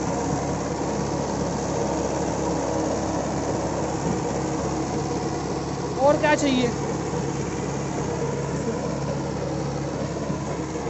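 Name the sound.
Mahindra 575 XP Plus tractor engine running with rotavator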